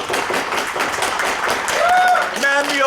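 Audience at a poetry slam claps through a short burst of dense, steady applause, with voices and a brief shout rising near the end.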